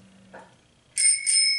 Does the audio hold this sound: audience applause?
no